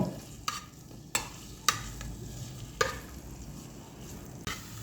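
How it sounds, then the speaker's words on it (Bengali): Dates stir-fried in hot ghee in a pan: a soft, steady sizzle with several sharp scraping stirs at uneven intervals, close and fairly quiet, with no talk. "খেজুরগুলোকে আমি ঘির সঙ্গে কিছুক্ষণ নেড়ে চেড়ে ভেজে নেব"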